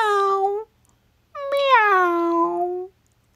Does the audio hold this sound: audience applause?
no